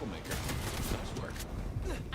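Gunfire from Vampire: The Masquerade - Bloodlines 2 comes as a string of close, sharp shots at an uneven pace, mixed with a steady bed of game noise and voices.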